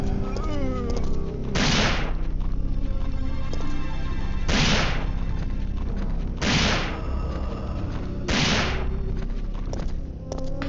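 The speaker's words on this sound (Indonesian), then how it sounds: "Tong merah isinya minyak bisa meledak ya kan" Red oil barrels exploding in the PlayStation 1 game Resident Evil 3, four loud booming blasts spaced about two to three seconds apart over a steady bed of game music and ambience.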